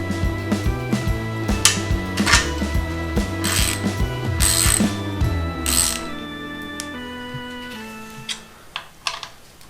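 Ratchet snugging bolts on a Honda MT250 Elsinore motorcycle during reassembly, rapid close clicking bursts in a regular back-and-forth rhythm, then slower scattered clicks and metallic taps as the work winds down.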